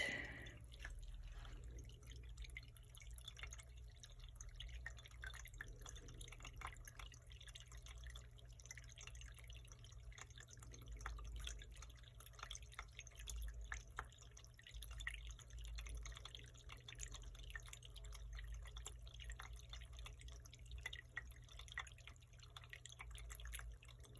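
Steady trickle and drip of water from a fountain, continuous and calm, with no voices over it.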